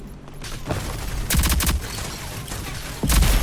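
Bursts of rapid gunfire from the video game Rogue Company crackle loud and close, with short volleys separated by brief pauses and a heavy final burst.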